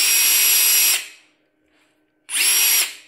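A Metabo impact driver runs on its high setting in two loud, steady bursts of whirring, the first about a second long, then a short silence before the second burst.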